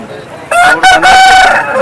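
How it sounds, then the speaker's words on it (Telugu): A rooster of a roughly four-kilogram breed at a Vijayawada poultry market crows once, loud and close: a long, ringing cock-a-doodle-doo that starts about half a second in and holds for over a second. "ఇది కూడా చాలా మంచి క్వాలిటీ కలిగినటువంటి కోడిపుంజు"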